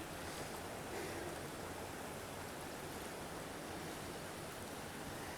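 A small stream rushes steadily at a river crossing on the Appalachian Trail, a dense, continuous hiss of flowing water, close and fairly loud, with no voices and no breaks for the whole stretch.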